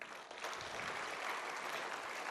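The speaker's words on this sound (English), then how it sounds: "So can we clap for India once again?" A crowd at a school annual day event claps continuously, a dense even patter of applause heard from some distance.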